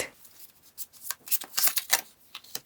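Tarot cards slid and drawn from a deck, a run of soft papery swishes and flicks close by, irregular bursts growing busier toward the end, with no talk.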